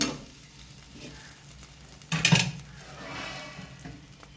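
Cumin paste with dried red chillies and cumin seeds fried and stirred in a pan for a snakehead fish curry: a soft, low sizzle with scraping stirs and one loud utensil clank midway.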